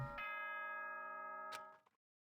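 Chime from the video game Danganronpa 2: a single bright, bell-like tone with sustained harmonics that rings for about a second and a half, then a short second strike before fading out, heard alone.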